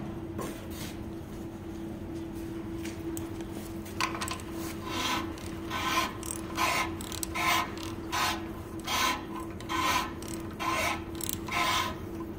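A ridge reamer's cutter blade turning inside an oiled Slant 6 cylinder block, rhythmic scraping rasps that repeat about every second, close and moderately loud over a steady low hum.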